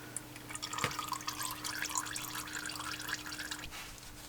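Engine oil trickles and drips from a Porsche Cayenne during an oil change, a faint steady liquid patter with a low background hum.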